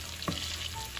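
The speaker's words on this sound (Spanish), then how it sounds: "vamos a echar el ajo, los 2 dientecitos de ajo primero, para aromatizar un poquito lo que es la mantequilla y el aceite de oliva" Two garlic cloves fry in butter and olive oil, a soft steady sizzle with a brief stir or clatter near the start, fairly quiet and without talk.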